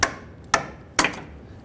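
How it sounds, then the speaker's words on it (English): Three sharp metallic whacks of a hammer striking a screwdriver set against the ear of a steering rack boot band on a Toyota Tundra, evenly spaced about half a second apart, close and loud in a quiet garage. "we're gonna put our screwdriver on that little ear, and we're gonna whack that with a hammer"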